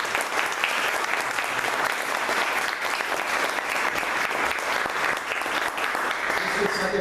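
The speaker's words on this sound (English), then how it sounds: "A round of applause for the panel members." Steady, dense applause from a convention audience for the panel members after a battlegames session, many hands clapping at once in a continuous wash with a slight murmur of voices underneath.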